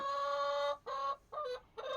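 Chickens in a backyard flock cluck in four drawn-out, tonal calls separated by short pauses, fairly close and clear with no one speaking.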